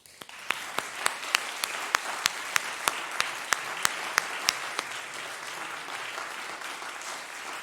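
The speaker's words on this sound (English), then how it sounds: "could we just again show our appreciation to all those who have been leaders during the past church year by applauding them" A congregation at a church annual meeting applauds its leaders with steady clapping, and sharp, evenly spaced claps from one nearby person ring out above the crowd for the first several seconds.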